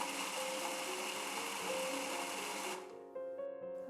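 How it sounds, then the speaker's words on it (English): A food processor whirs steadily as it blends white chocolate into a fine powder, a loud constant motor whine that dips near the end before a higher tonal hum resumes. "I'll be using some white chocolate in a food processor and blend it into a fine powder"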